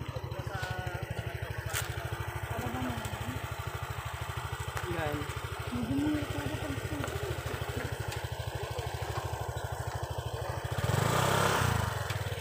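A motorcycle engine chugs steadily up close, a rhythmic low putter running throughout while people talk over it, swelling louder near the end.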